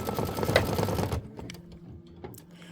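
A machine stitches the stem and leaf fill and leaf detail of a Kimberbell Wallflower quilt block in Minki Kim fabric, a dense steady whir for about a second before stopping, followed by quieter handling clicks.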